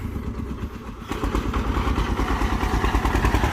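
A KRT farm tractor plowing a field in second gear with twin large tires, its engine revving up from a lower idle to a loud, steady, close chugging throb with rhythmic pulses.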